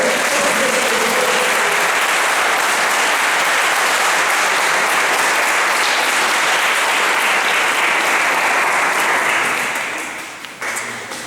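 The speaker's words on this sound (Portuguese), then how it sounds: "Dá um aplauso ao Senhor, aqueles que creem." Sustained, dense applause from a church congregation during a worship service, loud and steady throughout before fading toward the end.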